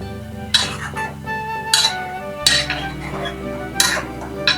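A spoon stirs Nanjil-style mango pulissery with added water in a pot over a medium flame, making repeated metallic clinks and scrapes against the pot at an uneven rhythm.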